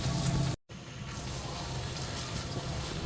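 Keema being sautéed in a pan at home for a tawa keema dish, a steady close sizzle and frying hiss running through the clip, cut by a brief silent dropout near the start.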